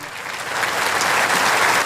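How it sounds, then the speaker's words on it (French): A crowd along the Promenade des Anglais in Nice holds a minute of applause, steady broad clapping spread over a long distance that swells slightly and stays dense throughout. "c'est une minute d'applaudissements qui résonne et court sur les 2 kilomètres de la promenade des Anglais"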